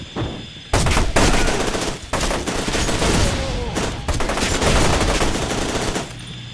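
Gunfire in the F.E.A.R. 2 video game, with dense bursts of automatic weapon fire and rapid shots filling the clip, one brief pause between volleys, loud and continuous throughout.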